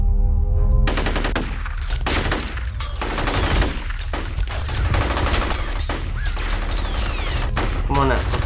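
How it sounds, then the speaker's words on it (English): Rapid automatic gunfire in the video game F.E.A.R., loud sustained bursts of close shots rattling continuously with brief gaps, ringing shell-like clinks near the end. "Shooting."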